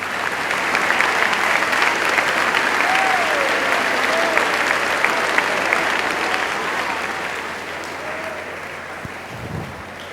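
An audience at a youth talk by a priest claps loudly in sustained applause, a dense crackle of many hands that gradually fades toward the end, with a few faint voices mixed in.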